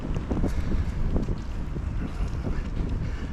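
Steady wind roars and buffets against the microphone on a flat, open road during a bike ride, a constant low rumbling gust with no pauses and no voices.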